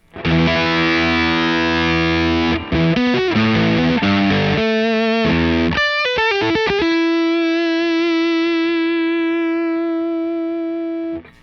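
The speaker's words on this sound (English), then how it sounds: "As you could tell, it's a nice solid fuzz tone, but it's not a huge singing sustain." An electric guitar played through a Spadola fuzz pedal from Demi-Dash rings out in a solid, buzzy distorted tone, a run of chords and notes ending on one long held note that slowly fades.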